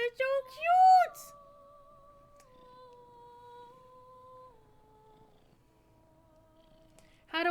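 A cat meows loudly near the start, with a high wavering cry, followed by a long, steady, softer drawn-out vocal tone that fades, then silence and a brief sound at the end.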